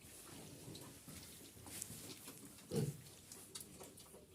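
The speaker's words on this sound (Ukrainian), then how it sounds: "Чути, та свиноматка в другому хліві рветься." A sow grunts and snorts as she struggles in a barn, amid rustling and shuffling, with one louder grunt partway through, no talking.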